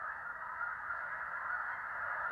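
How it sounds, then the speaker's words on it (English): Geese honk steadily as a flock flies in through the trees, a dense, continuous chorus of calls at moderate distance in an outdoor woodland setting. "she got a little recording of the geese coming in through the trees"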